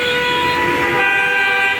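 A loud, sustained car horn blares close by in a rain-soaked traffic jam in Savar, Dhaka, holding one steady tone for the whole moment.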